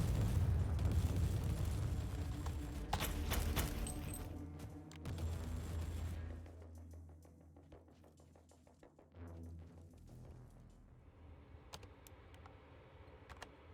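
Missile explosions in a Warhammer 40K video game, a loud rumbling volley of blasts at first that thins after about six seconds into sparse clicks and thuds, with a softer boom later.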